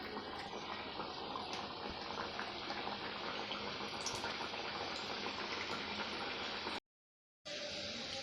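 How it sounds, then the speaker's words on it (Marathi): Stuffed mung dal kachoris fry in hot oil over a medium flame, giving a soft, steady sizzle and bubbling throughout, with one brief gap of silence near the end. "आता आपण त्यांना तळायचं आहे अगदी मीडियम फ्लेमवर तळायचं आहे आपल्याला"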